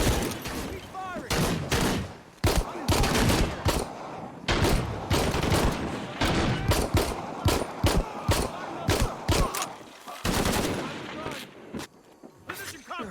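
Gunfire in the video game Shadow of the Tomb Raider, rapid loud bursts of shots and impacts in quick irregular succession, with voices calling out between them.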